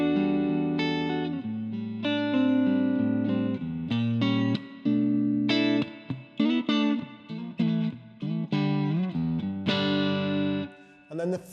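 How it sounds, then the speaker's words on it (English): An electric guitar plays through a Roland Micro CUBE GX amp set to a big hall-like reverb, picking single notes and chords whose tails ring out and blend into a lush wash, with brief gaps between phrases. "All the way up to big kind of hall-like reverbs."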